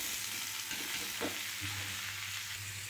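Vegetables frying in hot oil in a wok, a steady broadband sizzle running throughout with a low hum beneath, no voices.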